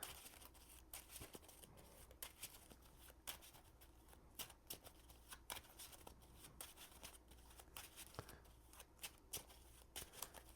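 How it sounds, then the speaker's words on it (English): A deck of cards for a Marvel Champions board game is shuffled repeatedly nearby, producing rapid riffling bursts and soft snapping clicks in an uneven rhythm with no talking. "And we'll shuffle our counter deck."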